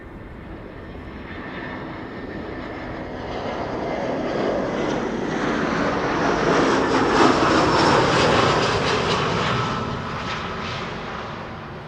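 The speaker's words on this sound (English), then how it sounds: "Embraer 195 KLM flight 1918 arriving from Zurich" A KLM Embraer 195 jet on flight 1918 from Zurich arrives at Amsterdam Schiphol, its engine roar building from a distant rumble to a loud, broad whine as it passes close, then fading slightly, with no talk.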